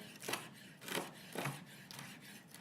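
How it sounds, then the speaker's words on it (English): A knife chops through cooked strips of food on a cutting board, four or five quiet, evenly spaced cuts. "I'm gonna chop this up"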